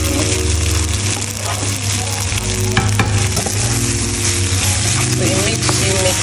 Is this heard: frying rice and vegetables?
yes